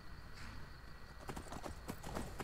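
Horse hooves clip-clop in a steady walking rhythm on a road in a fantasy role-playing game, close and moderately loud over a constant ambient background hum.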